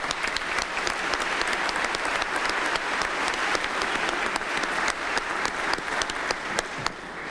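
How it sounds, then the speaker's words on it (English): Sustained audience applause at the 144th Cleveland Police Academy graduation ceremony: dense, steady clapping from a large crowd, holding at an even level for the whole stretch. "Give you a round of applause."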